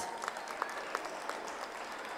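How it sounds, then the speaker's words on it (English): Parents in the audience at a school's annual parents' day applaud steadily, a dense, even patter of many hands with a few louder individual claps popping through. "You have to keep going, keep clapping."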